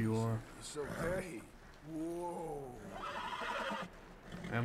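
A horse whinnies in a high, wavering neigh, then snorts and whinnies again, loud and close, with the Red Dead Redemption 2 game soundtrack faintly underneath.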